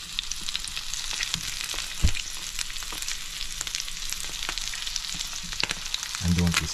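Salmon fillet sears skin-down in a hot pan under a weight, giving a steady crackling sizzle with scattered pops that carries on throughout, with a low thump near the end.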